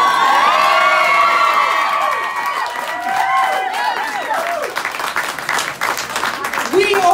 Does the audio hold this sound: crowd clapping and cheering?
yes